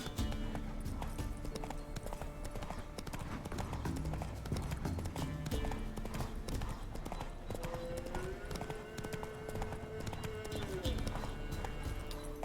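Horse hooves clip-clop in a steady running rhythm in The Witcher 3 video game, continuous and prominent, with a voice speaking over them and a brief tonal whinny-like sound partway through.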